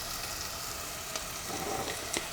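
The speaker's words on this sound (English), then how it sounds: "I'm going to saute my chicken with the okra" Chicken and okra sauteing in a pan for a Persian okra stew, a quiet steady sizzle with a few faint scrapes and clicks, no talking.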